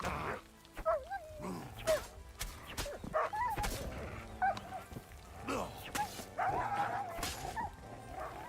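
A dog in the medieval video game Kingdom Come: Deliverance 2 whimpers, yelps and gives short barks in uneven bursts, fairly close, with someone talking over parts of it.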